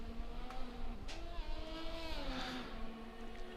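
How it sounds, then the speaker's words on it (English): Formula 1 race car in a video game on a flying lap with DRS open, engine note held high and climbing along the straight, fairly faint and steady over a few seconds. "Crazy Boy's starting a flying lap here. DRS wide open, going across the straight."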